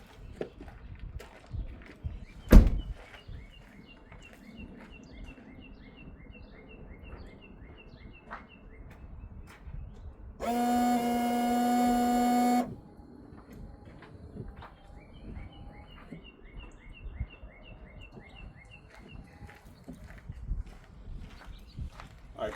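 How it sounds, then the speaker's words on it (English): The windshield washer fluid pump on a Ford F150 with its reservoir drained whirs in one steady burst of about two seconds, loud and close, amid faint rustling, a sharp knock and scattered bird chirps. "you can definitely hear the pump from down there"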